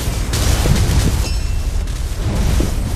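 Cannon fire in Black Desert node war combat, heard as a dense, loud, continuous rumble of booms and blasts with no clear gaps between them.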